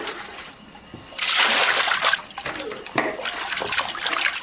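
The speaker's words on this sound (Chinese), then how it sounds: "给它加一点盐洗。" Pig small intestines washed by hand in salted water, with close splashing and sloshing that swells and fades in uneven bursts.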